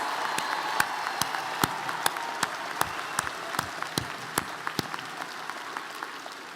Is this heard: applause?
yes